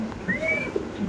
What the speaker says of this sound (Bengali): ওহো, এত সুন্দর কবুতর মাশাআল্লাহ।